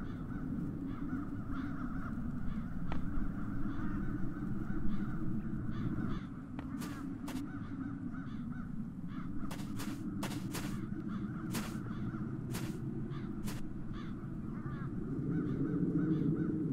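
Crows cawing in the video game The Chains of Satinav, several sharp harsh caws in an irregular cluster over a steady low ambient drone, fairly close and distinct, with no talking.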